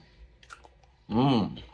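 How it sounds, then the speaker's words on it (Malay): Someone bites into and chews crisp, crunchy cucumber close up, a short loud crunch after a few soft clicks, with faint talk in the background. "Timun-timun ni kita boleh makan lah. Tak tahu situ kita dah asing lah timun tak macam tu, supaya dia rangup."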